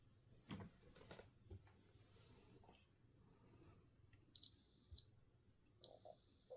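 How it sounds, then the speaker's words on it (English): Two sustained high-pitched beeps from a multimeter continuity test on a Sega Genesis Model 2 console board, each lasting about half a second to a second, loud and clear over faint handling noise. "Test for continuity now across it."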